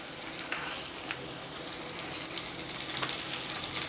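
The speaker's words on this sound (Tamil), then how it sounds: "உப்பும் போட்டு நல்லா வதக்கிக்கலாம்" Onions sauté with a pinch of salt in a pan, giving a steady, moderate sizzle with occasional soft stirring scrapes, heard up close and without talk.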